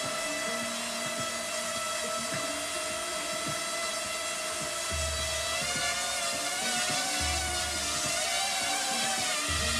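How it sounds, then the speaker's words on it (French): Parrot Mambo mini drone lifting off and hovering with a steady, high-pitched rotor whine, fairly faint, and a low thump partway through. "Ensuite on va voir avec le Parrot Mambo. Voilà, je le fais décoller."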